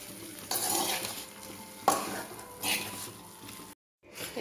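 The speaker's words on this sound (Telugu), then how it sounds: "ఇప్పుడు అన్నం వేసుకొని బాగా కలుపుకుందాం." Rice being stirred into an okra mixture in a pan, with scraping and stirring bursts over a steady sizzle, then a brief silence and the sizzle returns.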